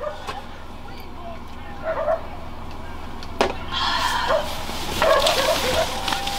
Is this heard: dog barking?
yes